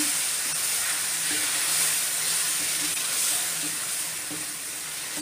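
Semolina roasting for suji halwa sizzles steadily in the pan, a continuous close hiss with faint periodic scraping from stirring, no voices.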